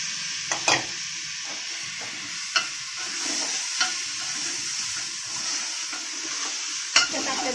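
Mutton for a spicy mutton curry sizzles steadily in a pan, with occasional sharp scrapes and taps of a spoon stirring it, close and continuous, with no talking.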